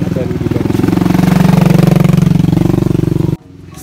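Motorbike engines idle and putter steadily near the Campuan Tampak Siring public bathing place in Bali, a close, loud rhythmic chugging that cuts off abruptly near the end.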